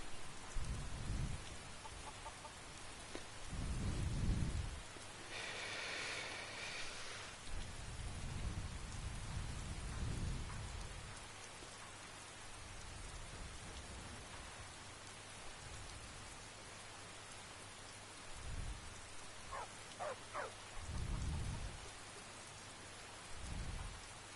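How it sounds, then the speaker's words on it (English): Steady rainfall in Skyrim during a relaxed walk through Tamriel, a constant soft hiss broken by several deep thunder rumbles and faint bird-like calls, with no talking. "Is it still raining? Really? Rain's nice though."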